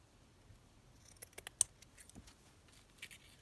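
Scissors snipping paper while trimming a junk journal topper, a handful of quick, faint, crisp cuts clustered together in a quiet room.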